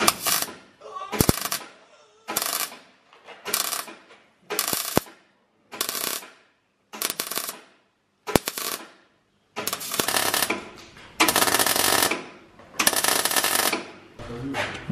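Welding tacks on a BMW E36 radiator setup during an SR20 radiator cooling upgrade: a series of short, loud crackling bursts about a second apart, giving way to longer sustained welding runs near the end.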